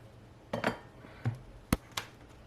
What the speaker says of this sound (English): give them a rough chopping and stick them in a pestle and mortar